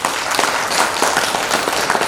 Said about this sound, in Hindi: इनके ऑफिसर्स के लिए मैं तालियां बजाइए जोर से